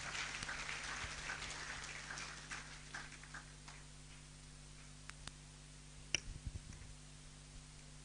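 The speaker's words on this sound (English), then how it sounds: "Please, let's applaud her as she comes" An audience at a University of Cape Coast freshers' orientation applauds a counseling psychologist as she comes forward, a faint, dense crackle of clapping that gradually thins and fades, ending in a few scattered claps.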